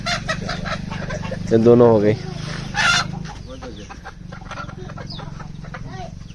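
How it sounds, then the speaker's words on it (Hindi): Chickens cluck and squawk after being caught in a village, loud close calls in short bursts mixed with someone talking over them. "ये दोनों मुर्गी आ गई साथ में"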